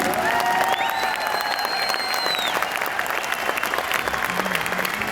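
Dense audience applause at an anniversary event in Delhi, continuous loud clapping from a large crowd, with whistle-like tones sliding over it.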